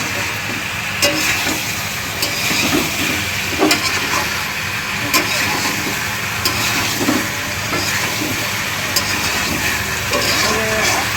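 Hot water poured into a pot of frying Bengali-style chicken curry with potatoes sets off a steady, loud sizzle and hiss, with faint scattered clinks and stirring sounds throughout.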